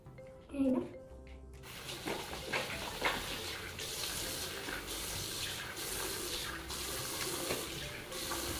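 Tap water runs steadily into a sink during a night skincare routine, a continuous close splashing rush that starts after a brief knock and keeps going with small surges to the end.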